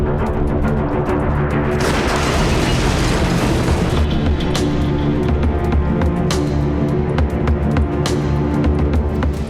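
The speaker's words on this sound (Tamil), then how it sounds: "லிப்டில் ஹைட்ரஜன் பலூன்கள் வெடித்து நூலிழையில் 3 உயிர் தப்பிய சம்பவத்தின் சிசிடிவி காட்சிகள் தான் இவை." Hydrogen balloons bursting inside a lift, caught on CCTV as a loud, rough boom that settles into a sustained noisy roar with scattered sharp pops.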